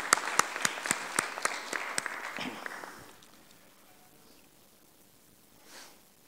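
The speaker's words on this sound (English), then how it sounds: "So I would request to have a clapping for all of these for their contribution." Conference audience at a network operators' gathering in Karachi clapping in a dense burst of applause that lasts about three seconds, then fades into quiet room tone with a brief faint rustle near the end.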